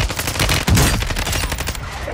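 Gunshots in a battle royale video game, a dense, loud burst of rapid fire through the whole moment with one heavier crack early on, close and continuous.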